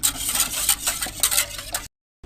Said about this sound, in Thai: ตอนนี้เรานำกะทิเรามาตั้งไฟให้ แล้วก็ต้องกวนไว้ตลอดแบบนี้เลยนะคะ